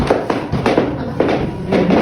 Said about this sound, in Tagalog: Ayan, may sounds effect na bombahan.